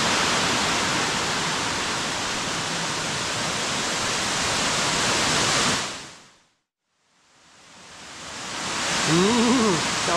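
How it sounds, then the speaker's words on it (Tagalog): Broadband rushing water where several small streams meet in a wilderness creek in Bambang, Nueva Vizcaya, loud and steady, cutting out briefly before resuming with a faint low warbling tone. "Puro lang siya, maliliit na sapa na dito lahat nagtagpo-tagpo."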